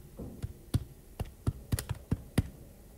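Quiet, close keyboard taps on a calculator or computer while entering a geometry calculation, about nine separate key presses at an irregular pace over a low hum.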